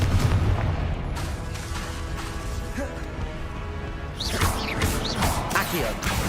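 Confringo blasting curse in a Harry Potter video game: booming, crackling blasts over a rumbling bed, with a sharper burst of debris and crashes late on, and voices faintly present beneath.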